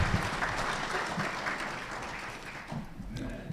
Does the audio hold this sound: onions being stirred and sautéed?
no